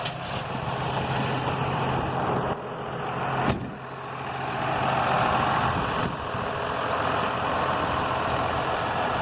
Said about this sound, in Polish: ciągnik tylko mruczy